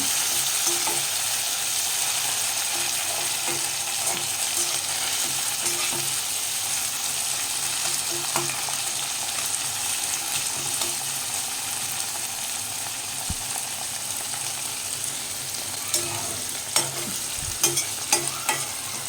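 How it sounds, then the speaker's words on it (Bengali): Chopped tomatoes and onions fry in a pan with a steady, fairly loud sizzle and frequent stirring scrapes, a few sharper clicks from the utensil near the end. "টমেটোটাও ভালো করে ফ্রাই করে নেব।"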